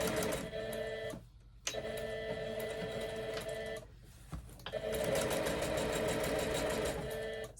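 Sewing machine stitching an apron seam in quick bursts, running, pausing and restarting as it works back and forward, close and clear, no talk.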